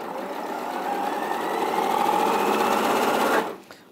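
Sewing machine running steadily as it stitches quilt strips for a Highland cow quilt, a continuous close mechanical whirr that holds for about three and a half seconds before stopping abruptly.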